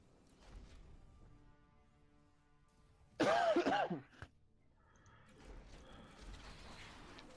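One person coughs sharply in a single loud burst, heard close against quiet background StarCraft II co-op game sounds and faint talk.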